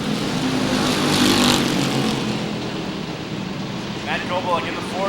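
Late Model stock cars circle Waterford Speedbowl late in a 50-lap feature, a steady broadband engine roar from a pack of cars with a brief louder swell as they pass, while an announcer's voice carries over the noise.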